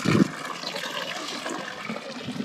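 Natural hot spring water spilling over a small waterfall into a covered pool at a campground, a close, continuous splashing and gurgling rush, slightly louder at the start, with no talk.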